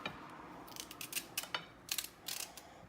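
Ceramic knife slicing carrots thinly for pickling, heard as a quiet run of short, crisp cuts in an uneven rhythm, close by and with no talking.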